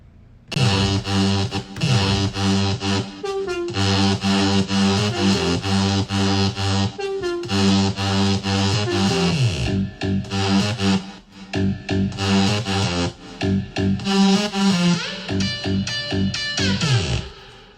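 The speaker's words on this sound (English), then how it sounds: "So with the growl and the synths now, it sounds like this." Loud electro house music with a gritty, growling distorted bass and bright layered synths, driving continuously without drums.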